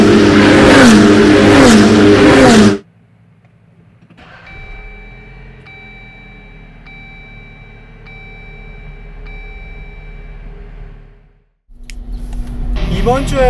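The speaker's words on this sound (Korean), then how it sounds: "저를 향해 시속 300km로 돌진하는 페라리를 실제로 보고" Ferrari 488 race cars in a one-make support race at the 2022 Canadian F1 Grand Prix in Montreal roar past at close range near 300 km/h. Loud bursts open and close the moment, with a quieter stretch of faint beeping tones between.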